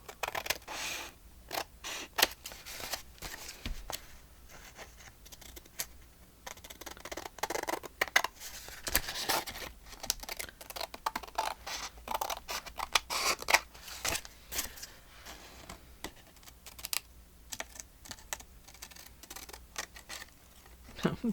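Scissors snip along the sides of a paper tag made from a blank notecard, a steady run of close, crisp cuts and paper rustle with brief pauses between strokes.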